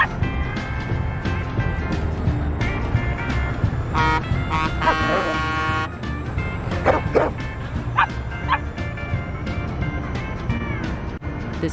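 Several dogs bark and yip in a Subaru Forester commercial, with repeated close barks, whimpers and car sounds under a busy music-and-voice mix, and people talking.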